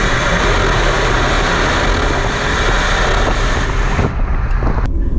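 An Alfa Romeo Stelvio Sprint SUV (2021, Monte Carlo Blue) pulls away in first gear in dynamic mode, its engine a steady, loud drone blended with wind rush. The sound stays constant, then cuts off sharply near the end.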